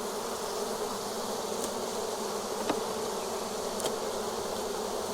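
A honey bee swarm pours out of a hive box, filling the air with a dense, continuous buzzing drone, close and steady, with a few individual bees zipping past nearby.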